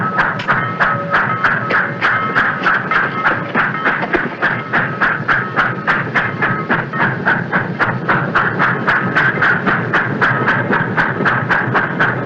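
Steam-era train pulling away with a steady, rhythmic chuff and clatter repeating about twice a second, loud and close, the beat holding even throughout with no voices.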